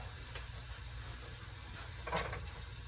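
Seasoned shrimp, black pepper and paprika sautéing in a pan for shrimp and grits, giving a steady, soft sizzling hiss throughout with a couple of faint scraping stirs, no talking.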